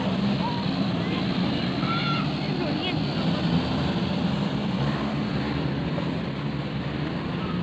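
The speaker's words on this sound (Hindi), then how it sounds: "ये बाइकें चल रही हैं यहाँ पे।" Motorbikes running in a mountain valley at night, a loud continuous engine drone filling the whole stretch, with faint voices in the background.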